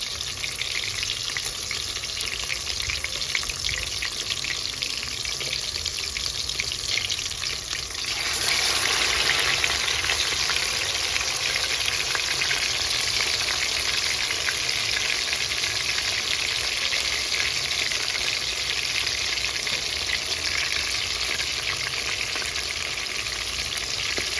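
Seasoning fries in a pot for a Jamaican rice and chicken dish, a constant crackling sizzle that jumps louder partway through as more goes in, then stays a strong, even hiss with no talking.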